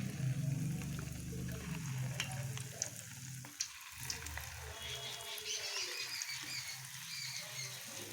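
Lentil fritters fry in hot oil with a steady, close bubbling sizzle throughout, joined by faint clinks and stirring sounds.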